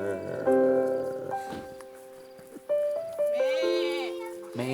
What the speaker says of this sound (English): The goats say, meh.